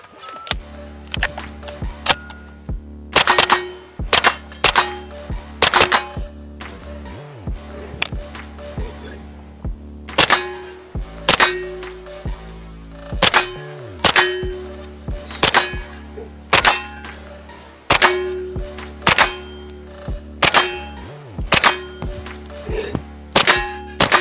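A Silencer Co. Octane 9 suppressed pistol fires repeated shots at steel targets, each a sharp muffled report followed by a ringing metallic clang, in irregular bursts across a long string with short pauses, loud and close.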